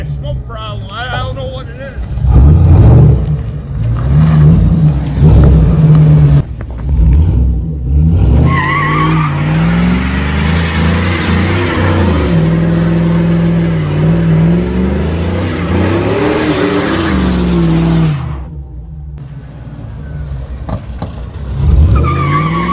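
An LS-swapped Chevy S10 Blazer does burnouts, its engine revving hard and loud with rising and falling pitch while the tires squeal, and voices talk underneath throughout.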